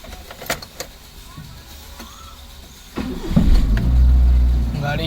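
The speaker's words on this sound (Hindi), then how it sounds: "गाड़ी स्टार्ट हो गई है।" A Maruti Suzuki Eeco van with a freshly repaired gearbox: a few light clicks, then the engine cranks and catches about midway and settles into a loud, steady idle close by, with faint voices in the background.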